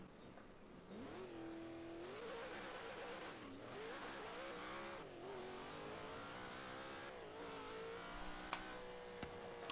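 Cleetus McFarland's Leroy drag car, a 2000 horsepower remake in Forza Horizon 3, roars loudly as it accelerates hard, its engine note climbing through several rapid gear shifts in a continuous high-revving run.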